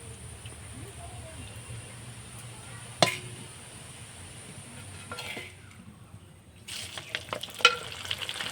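Basmati rice grains frying in hot oil to make puffed rice, a steady soft sizzle throughout with a sharp clink near the start and louder stirring and crackling bursts toward the end.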